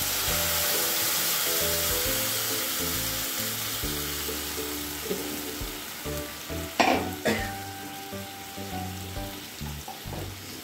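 Ground mustard and green chili paste with salt, thinned with water, sizzles in a hot pan with steady broadband frying hiss, brief stirring scrapes and a louder splattering burst midway, close and alone.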